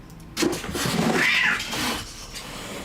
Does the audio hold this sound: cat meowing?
yes